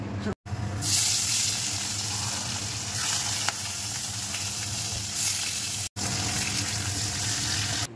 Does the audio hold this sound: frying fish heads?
yes